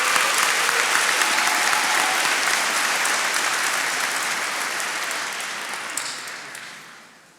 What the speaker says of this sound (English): Give them a strong round of applause.